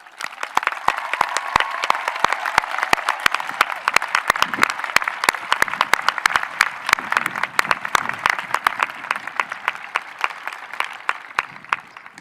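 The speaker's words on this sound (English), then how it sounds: "so we can collectively thank you with our applause" Audience applause at a college commencement ceremony, a dense crowd clapping steadily for about twelve seconds with sharp individual claps standing out near the front, a faint voice murmuring briefly underneath.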